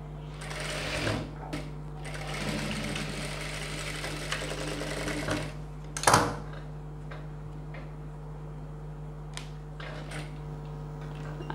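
Sewing machine stitching a hook strip on a blouse, running in a steady close hum with rapid needle ticking, pausing briefly with a clunk before a lighter stretch of stitching.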